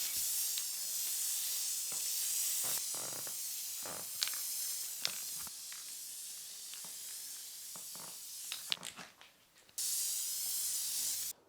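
Spray glue hisses onto Reflectix insulation material during a DIY van blackout shade build, in several short, close bursts separated by pauses and handling noises, with no talk.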